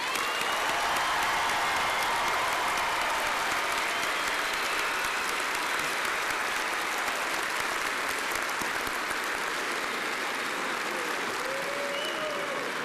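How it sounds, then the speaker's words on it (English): Sustained audience applause for doctoral graduates at a university spring commencement ceremony, a broad even wash of clapping in a large hall that holds steady and slowly eases off. "These graduates too deserve our applause and commendation."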